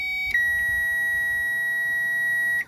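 A power probe emits a steady, piercing electronic tone that switches on abruptly after a short pause and holds unbroken for over two seconds before cutting off, loud and close, with no talk.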